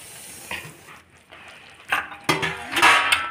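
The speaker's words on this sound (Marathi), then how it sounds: "आता संपूर्ण गूळ वितळून झालेलं आहे। तर मी याच्यात तीळ टाकून घेणार आहे।" Sesame seeds go into melted jaggery in a pan for sesame laddoos, with sticky stirring and scraping, a few sharp metallic clinks of a utensil against the pan, and louder bursts toward the end.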